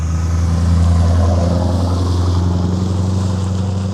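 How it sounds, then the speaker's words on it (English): A loud engine rumble with a rough, throaty exhaust drones steadily and close by, swelling slightly as the vehicle goes past. "Got a bit of a noisy exhaust on that"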